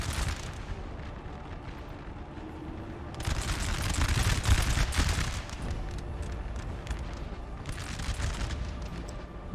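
Musket volleys in the video game Napoleon: Total War, a battlefield crackle of massed gunfire that surges loudly in bursts, with some shots closer and others more distant, under the low rumble of battle.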